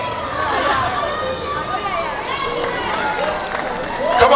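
A crowd claps, cheers and chatters throughout at a Heiva Polynesian dance contest in San Diego, a steady wash of applause with a few louder shouts near the end.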